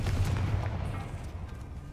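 A Confringo spell blast in a Harry Potter video game sounds as a heavy, sustained boom. A dense low rumble fills the short clip and eases off gradually toward the end.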